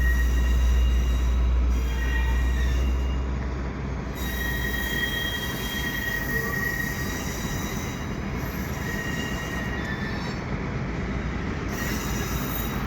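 An MR-90 EMU electric commuter train pulls away in winter, wheels squealing loudly with sustained high metallic screeches over a rumbling, clattering roll that carries on throughout.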